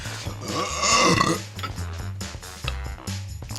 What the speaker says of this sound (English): from within their belly, a horrific belch shall erupt